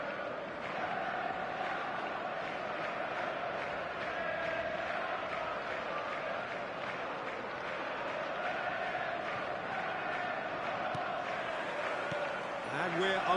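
Steady roar of a big stadium crowd in the eFootball video game, a dense continuous wash of murmuring and cheering that holds level throughout with no clear individual voices.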